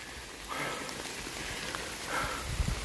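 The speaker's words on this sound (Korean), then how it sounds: "비를 피하고 있는데 비가 점점 많이 와요." A sudden rain shower pours down at a paragliding launch site on a mountain, a steady wash of rain close by with patter on nearby surfaces and brief rustling.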